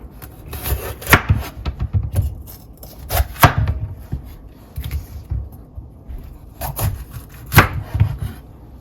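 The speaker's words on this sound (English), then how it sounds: "we're going to chop up our vegetables" A knife taps and thuds against a cutting board in uneven bursts, chopping vegetables for Jamaican green seasoning, close and fairly crisp, with brief pauses between runs of chopping.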